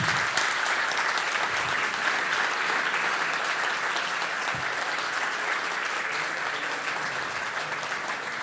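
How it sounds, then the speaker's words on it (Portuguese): An auditorium audience at a book talk gives a long, even round of applause, dense and steady from start to finish with no voices over it. "Eu gostaria de palmas para ela"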